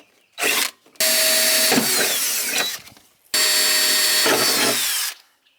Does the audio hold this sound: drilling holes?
yes